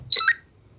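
A short electronic menu beep from a Saberforge lightsaber modeled on Count Dooku, a single quick two-part bleep followed by silence.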